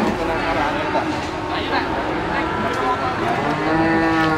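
Limousin cattle at a crowded livestock market, a loud, drawn-out moo near at hand with more lowing behind it, while people talk over the noise of the crowd.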